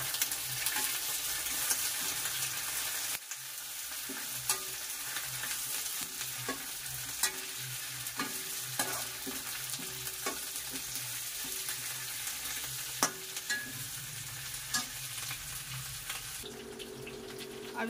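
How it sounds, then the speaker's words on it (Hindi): Onions, capsicum and green chilies fry in a pan at home while being stirred, a steady close sizzle broken by repeated scraping and clinking strokes of the spoon, continuing throughout. "अभी ओनियन थोड़ी थोड़ी जो है फ्राई हो गई है गोल्डन ब्राउन सी। अब इसमें कैप्सिकम डाल दूंगी और हरी मिर्च डाल दूंगी"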